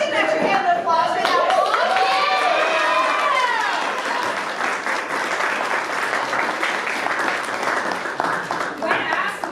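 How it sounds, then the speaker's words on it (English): A costume contest crowd at a comic convention claps and cheers loudly and steadily, with voices calling out over the sustained applause and a voice talking at the start. "Let's get an extra hand of applause for that"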